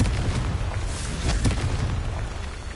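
A Confringo fire spell in Hogwarts Legacy goes off as a deep, rumbling blast, loud and booming, with crackling bursts layered in and a rolling tail that slowly fades.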